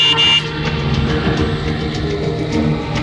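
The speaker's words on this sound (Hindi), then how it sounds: "अरे तो हॉर्न बजाओ ना।" A car horn toots near the start of a dubbed Hindi movie scene on a road, followed by dense traffic and vehicle noise with engines rumbling steadily, no speech.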